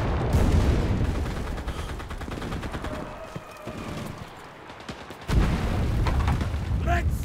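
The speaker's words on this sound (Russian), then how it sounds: "Слушай, перестрелка с кем-то." Gunfire exchange in the WW2 video game Enlisted, dense rattling bursts and booms through most of the stretch, easing briefly before a loud resumption near the end, with a voice heard faintly.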